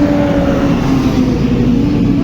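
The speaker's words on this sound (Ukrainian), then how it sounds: "трактор." Tractor engine running steadily in a loud, close, continuous drone with a low, even hum and no clear revving or voices.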